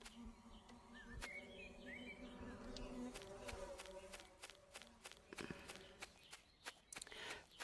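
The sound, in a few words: bees buzzing at beehives in the video game Harvest Days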